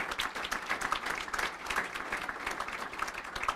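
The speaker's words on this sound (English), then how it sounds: "let's give a round of applause to our faculty here at Washburn Tech" Audience at a Washburn Tech signing day event clapping for the faculty, a fairly quiet but busy patter of many hands with rapid irregular claps, sustained and even throughout the short stretch.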